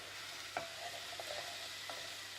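A little oil fries food in the bottom of a pan, giving a soft, steady sizzle with occasional faint pops and clinks.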